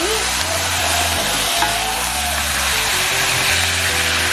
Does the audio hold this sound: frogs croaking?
no